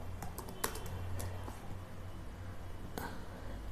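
Keys tapped on a computer keyboard while C code is written, scattered light clicks in small clusters over a steady low hum, fairly faint and close.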